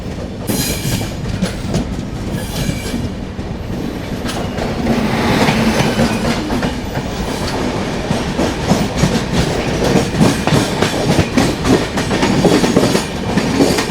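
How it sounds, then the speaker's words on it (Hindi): The Bangalore–Agartala Humsafar Express passes alongside a moving train, heard from onboard with loud continuous rumble and rapid clickety-clack of wheels on rails throughout, and no talking. "तो बगल से क्रॉस हो रही है इंडिया की longest running Humsafar express, Bangalore Agartala Humsafar express."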